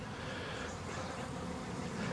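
Honey bees swarm in front of their hive, a dense, steady buzzing hum that fills the air at close range without any voices.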